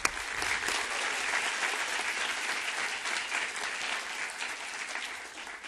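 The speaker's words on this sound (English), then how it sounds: "Let's give him a round of applause." An audience at an evening mathematics lecture breaks into sustained applause, a dense, even clatter of many hands that holds steady for several seconds and fades slightly at the end.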